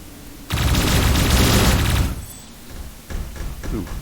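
Battle rifle gunfire in a video game, a dense loud burst of rapid shots lasting about a second and a half, followed by a quieter second volley.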